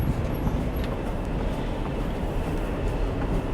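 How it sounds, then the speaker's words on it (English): Steady, loud rumble of a subway train inside the Rockefeller Center station in New York City, a continuous low roar with rail noise filling the space, no talking. "This is the Rockefeller Center station."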